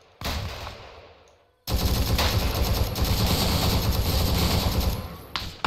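Heavy automatic gunfire in the military shooter Arma 3, a brief burst followed by a short lull and then a long, dense, continuous barrage of rapid shots, loud and close.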